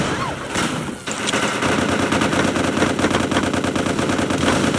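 Rapid automatic gunfire in the shooter game MICROVOLTS: Recharged, loud and continuous, with dense repeated shots filling the whole stretch after a brief opening.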